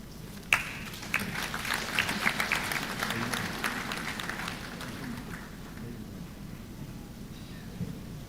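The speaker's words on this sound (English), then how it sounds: "once again, a round of applause" Applause at a university honorary degree ceremony, a sharp onset of clapping that swells through the first few seconds, then thins and fades into a steady, softer patter of hands in a large hall.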